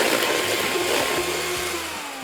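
An electric mixer beats cake batter for a pineapple upside-down cake, giving a loud, steady motor whir close by. Its tone sags slightly toward the end.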